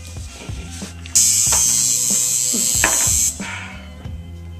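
An electric tattoo machine whirs loudly and steadily for about two seconds, preceded and followed by softer mechanical clicks and rattles.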